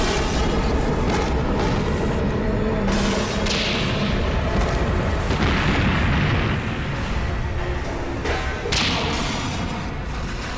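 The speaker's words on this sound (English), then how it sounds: "We will hack into the nuclear reactor and make it explode." A nuclear reactor explodes in a loud, continuous roaring rumble that lasts throughout, with repeated heavier bursts and blasts swelling out of the dense wash of noise. No voices are heard.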